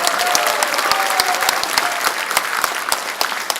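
Party delegates at a Daejeon joint campaign rally applaud warmly for the city mayor, a loud, sustained crowd ovation with sharp individual claps standing out from the dense mass of clapping.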